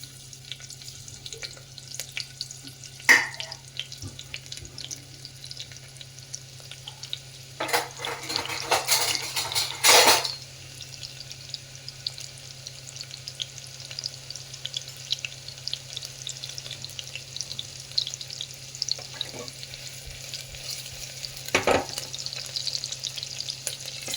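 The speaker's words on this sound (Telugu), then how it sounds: "ఫస్ట్ తరిగి పెట్టుకున్న ఉల్లిపాయల్ని వేసేయాలండి" Chopped onions fry in oil for aloo bath, a low, steady sizzle marked by a few louder clattering stirs and scrapes of a spoon against the pan.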